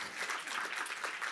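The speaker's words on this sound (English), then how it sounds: "Let's give our panel a big hand of applause." Audience applause for a conference panel, a short burst of dense clapping that sounds fairly close.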